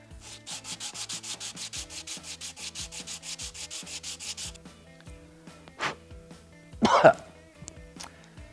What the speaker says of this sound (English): I'm just going to rub the bottom of each of these scales to get them a little bit flatter